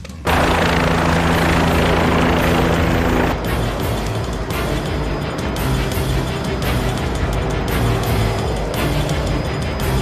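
A helicopter bringing in a patient to a hospital emergency center, its loud, close rotor and engine roar filling the whole stretch, dropping slightly in level after a few seconds, with no voices.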